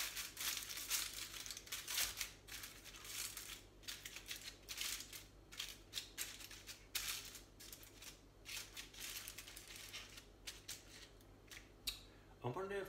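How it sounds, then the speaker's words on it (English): Tin foil is crinkled and pressed back over a dish of dauphinoise potatoes, giving close, repeated rustling and crackling bursts over about a dozen seconds. "I'm going to put my tin foil back on the top."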